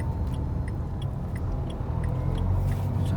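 Inside a car on a driving lesson, a steady low engine and road rumble fills the cabin while a light clicking, like a turn signal, ticks at an even pace.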